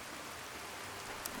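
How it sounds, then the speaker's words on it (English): Steady rain falls in the video game Fallout: New Vegas, a constant soft hiss that continues unbroken and fairly quiet for the whole moment. "See, it's still raining where I left it."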